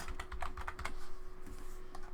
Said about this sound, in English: We'll go to the search bar and we're going to type in Sandy Liang.